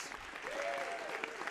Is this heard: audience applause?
yes